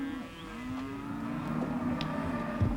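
Cattle bellowing as they are driven through a drafting gate on a 1960s Australian station, a long drawn-out moo near the start followed by fainter lowing over a rumbling background.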